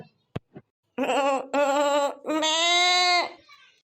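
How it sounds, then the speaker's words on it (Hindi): A goat bleats close by, giving three loud, wavering cries in a row. The last cry is the longest. A short click comes first. "अरे माई ये तो हमार बकरिया है"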